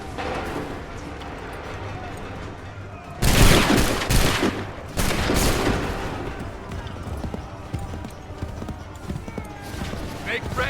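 Musket volleys rip out in Assassin's Creed 3 Remastered: two loud, ragged bursts of massed gunfire about two seconds apart, amid shouting voices, hoofbeats and a busy battlefield din.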